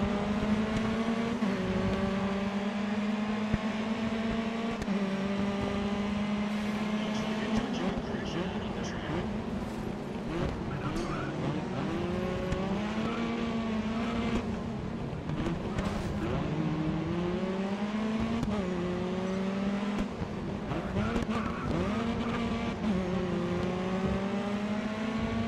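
Race cars in the video game Grid Autosport rev and shift with rising and falling engine whines that overlap and repeat as they accelerate, under a steady hum of game sound.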